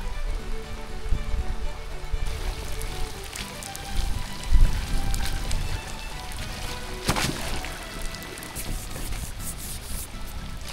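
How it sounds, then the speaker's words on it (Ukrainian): Rain falling on a kayak at the end of a river trip, a dense patter of drops striking the hull and nearby water, close and continuous with a few louder splashes, no talking. "Дощик мені зараз допоможе мити байдарку"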